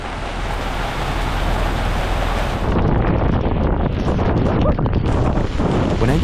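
Strong 30-knot squall wind roars continuously over an anchored sailboat, a loud, broadband buffeting that intensifies midway with gusty rushes and flapping turbulence, close to the microphone with no talk.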